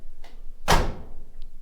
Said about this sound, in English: Doors close.